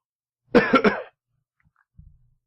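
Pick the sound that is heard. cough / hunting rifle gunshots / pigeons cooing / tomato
cough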